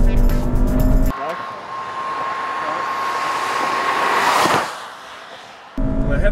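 A 2014 Volkswagen Jetta with turbo and traction control on is driven hard on a race track, its rear sliding slightly; loud sustained engine roar with a steady high whine and tire noise, swelling then cutting off abruptly.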